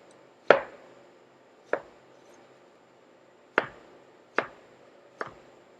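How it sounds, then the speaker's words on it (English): A French knife chopping food on a cutting board: five crisp, separate chops at uneven intervals, close and fairly loud, with quiet gaps between them and no talking. "We're going to take our French knife. We're just going to get these guys cut up quick."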